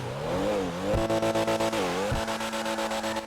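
The engine of a Pfister Comet S2 sports car in GTA 5 Online revs up and drops back twice, then settles into a fast pulsing idle, loud and close with no talk.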